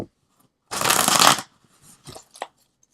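A brisk riffle of tarot cards being shuffled close up, one burst lasting under a second, then a few soft taps and shuffles.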